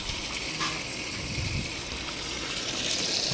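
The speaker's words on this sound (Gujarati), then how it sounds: "કુંડો ભરવો હોય તો નળ ચાલુ કરી દો એટલે કુંડો ભરાઈ જાય" Tap water gushes steadily into a water tank through a jury-rigged village plumbing setup, a continuous moderately faint rushing flow with no speech.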